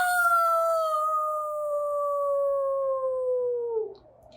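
A person imitates a dog howling with a single long, wavering howl that holds steady and slides downward before breaking off, close and clear with nothing else behind it.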